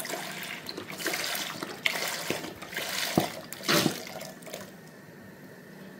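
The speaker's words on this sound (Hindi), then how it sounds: "2 लीटर हम जो है वो फुल फैट मिल्क इसमें डालेंगे।" Two litres of full-fat milk poured onto cooked, pre-soaked rice for a Peshawari kheer, a steady liquid gush with splashy swells and a few sharper knocks, fairly close, with no talking.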